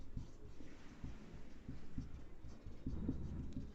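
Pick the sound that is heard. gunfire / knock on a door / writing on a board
writing on a board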